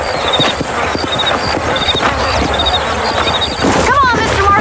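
Horse hooves clip-clopping in Red Dead Redemption, a steady, close rhythm of hoofbeats with a brief whinny near the end, heard under in-game talk.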